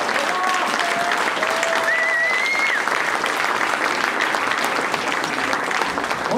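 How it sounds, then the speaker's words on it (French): A crowd applauds a guest arriving for an interview at a French-language event, producing sustained, even clapping throughout, with a few whistles rising briefly over it. "On peut l'applaudir."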